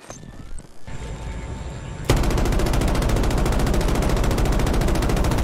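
Gunfire in Battlefield 2042 starts as scattered distant shots, then erupts into a loud, continuous, rapid automatic burst that fills the rest of the moment.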